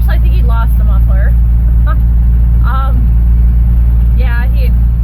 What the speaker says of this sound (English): This is the Dodge D250, and it is a diesel, so it's really loud and it has an exhaust leak.